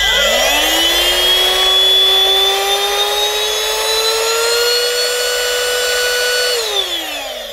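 A Himox V02 cordless handheld vacuum cleaner whirs up to a high, whining motor tone, holds it with a slight rise in pitch as the power setting changes, then winds down sharply near the end, close and alone.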